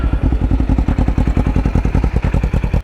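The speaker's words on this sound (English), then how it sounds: "Right now I have an aftermarket exhaust, so that's what you are hearing." A 2008 Kawasaki Ninja 500R fitted with an aftermarket 9-inch stubby exhaust, loud and close, running with a rapid, even, throbbing exhaust pulse and mechanical clatter throughout.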